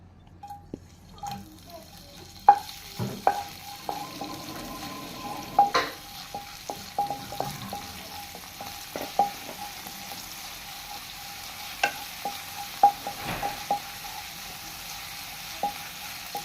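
Ginger and garlic frying in coconut oil give a soft, steady sizzle, broken by repeated sharp clinks and scrapes of a spoon stirring in the pan, with a faint whine underneath.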